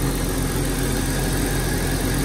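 A car engine idles steadily and loudly up close, a constant mechanical hum and vibration with no change in pace and no voices, during a ThermoCure engine cleaning treatment.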